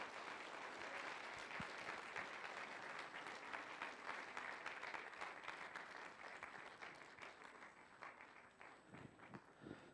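Sustained applause from a congregation at a church Bible seminar welcoming a pastor, many hands clapping in a dense, fairly even roar that thins out toward the end with a few louder individual claps.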